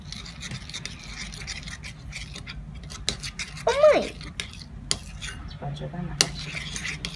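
Homemade slime with Coca-Cola stirred in a bowl, scraping and rasping strokes against the bowl with occasional clinks of a utensil, close and soft, with brief voices in the background.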